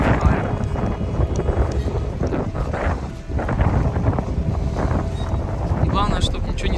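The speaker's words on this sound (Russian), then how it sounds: "Как я и говорил, тут прям вот метель." Strong wind roars through a snowstorm in Moscow's Belyaevo district, a steady, loud, broadband gusting close to the microphone that barely lets up for the whole stretch.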